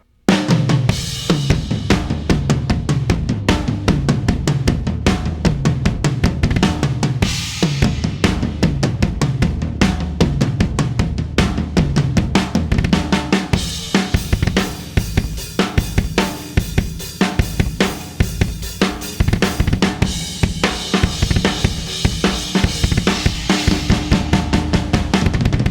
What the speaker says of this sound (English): I'm playing a tom rhythm